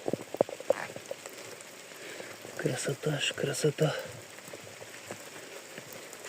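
Rain falls steadily in the countryside with a soft, continuous patter and scattered drops striking nearby surfaces. A person speaks briefly over it.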